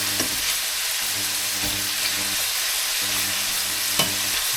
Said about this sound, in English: There is the mushrooms in.